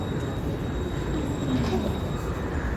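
Trams and city traffic rumble near the main railway station in Augsburg, Germany, a low, continuous hum with faint rail squeals, heard under a person talking.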